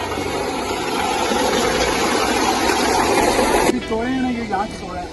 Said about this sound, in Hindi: ये दूसरे बाइक की मोटर लगी है उसी खूह के अंदर